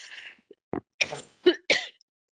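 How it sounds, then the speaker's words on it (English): A few short, harsh coughs in a row, close to the microphone, with brief pauses between them and no talking. "I apologize for the coughing"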